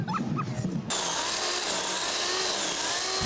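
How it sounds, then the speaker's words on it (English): Chainsaws cut through storm-damaged tree limbs in a suburban neighborhood, a loud steady whine after a brief burst of other noise, running without pause. "Residents sawing tree limbs and moving the pieces one by one off their lawns, their homes, and as in this man's case, off his cars."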